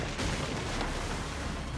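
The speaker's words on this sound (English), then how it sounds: "Probably just kids with firecrackers." Loud, dense crackling burst of firecracker-like explosions in Assassin's Creed II, a continuous broadband noise with sharp pops throughout and no talking.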